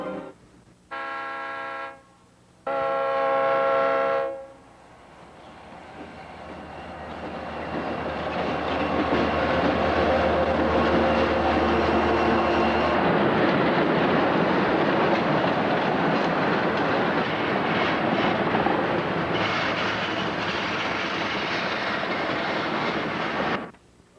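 Diesel freight train rolling through Horseshoe Curve, loud and close, with heavy engine rumble and steady wheel clatter building after two brief horn blasts at the start, continuing for about twenty seconds.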